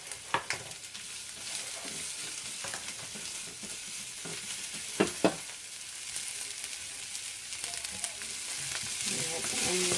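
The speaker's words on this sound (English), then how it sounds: "I love to hear cooking onions." Onions fry in a hot pan at home, giving a steady sizzle with a few sharp crackles and stirring scrapes, close and alone without talk.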